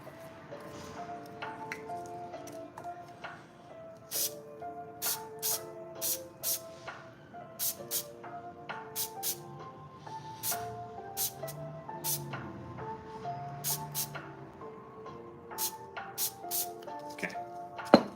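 Short bursts of spray from a cleaning nozzle during magnetic tree terrain work come in quick hissing puffs, repeated every second or so over a background of musical tones.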